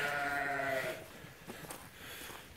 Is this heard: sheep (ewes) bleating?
yes